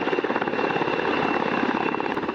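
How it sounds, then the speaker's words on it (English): A UH-60 Black Hawk multi-role assault helicopter flies low over a lake during a training exercise, giving a continuous loud, dense rotor and engine roar with steady throbbing blade chop and no voices. "The sound of rotor blades began to echo over Lake White as a UH-60 Blackhawk from the 135th Assault Helicopter Battalion"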